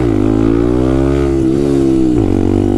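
A Benelli TNT 125 motorcycle engine drones loudly and close while riding a wheelie, holding a steady rev with a couple of brief dips in pitch and no voices.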